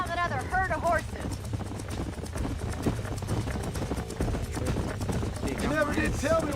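Horses running in the video game Red Dead Redemption: a busy patter of hoofbeats at a fast clip with occasional whinnies, set against a constant background soundscape.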